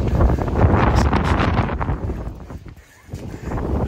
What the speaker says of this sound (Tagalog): Lakas sa hangin.